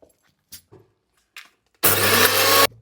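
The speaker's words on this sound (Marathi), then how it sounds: "आता याला मिक्सरला लावून आपल्याला बारीक करून घ्यायचे" A kitchen mixer grinder pulverises cardamom pods with a spoonful of sugar in one loud, close burst of under a second, preceded by a few light knocks and clicks.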